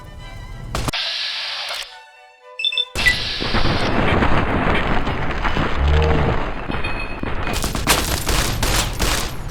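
Gunfire in Fallout Tale of Two Wastelands, a loud dense fusillade of rapid shots. It drops out briefly early on, returns with tonal game sounds, then continues as sustained heavy firing with sharp repeated cracks toward the end.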